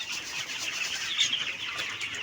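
Many chickens with swollen heads from a cold keep up a dense mass of clucking close by, with occasional wing flaps, fairly even in loudness throughout.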